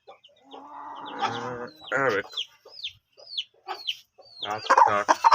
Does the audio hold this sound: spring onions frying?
no